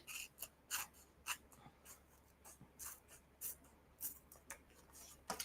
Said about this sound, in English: And then, of course, I want to cut this side.